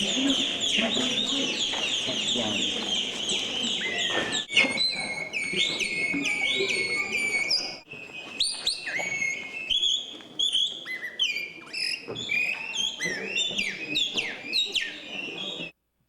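Bird calls imitated by human voices from performers skilled in bird mimicry at an evening art event, a dense run of high chirps, whistles and clucking trills, fairly loud and continuous, with a short break partway through.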